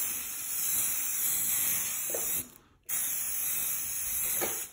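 Spray paint hisses from an aerosol can onto an end table being refinished, a close, steady spray in two long bursts with a short break between, no talking.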